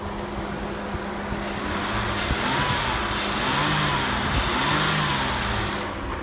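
A car engine idles and revs steadily with a low, continuous hum, rising and falling gently, close by and with no talking, at a Copart salvage auction yard.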